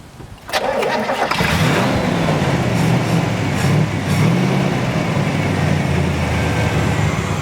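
A 1967 Corvette's 327 V8 with solid lifters cranks and catches, then settles into a loud, steady, throbbing idle with slight rises in revs, close by.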